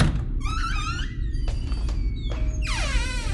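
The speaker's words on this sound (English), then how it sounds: "the door suddenly opened" A door swings open with a long, high hinge creak that rises and falls in several drawn-out squeals, ending in a final sweeping squeak over a steady low rumble.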